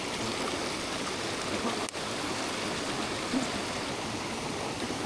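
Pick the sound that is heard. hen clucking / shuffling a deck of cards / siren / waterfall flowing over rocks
waterfall flowing over rocks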